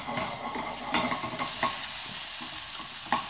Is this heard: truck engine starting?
no